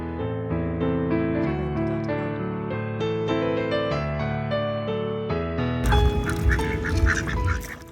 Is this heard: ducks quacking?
yes